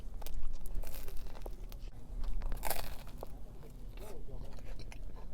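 Someone bites into a crunchy-bottomed Sicilian pepperoni pizza with cupped pepperoni and chews noisily, with crisp crackles and munching up close throughout.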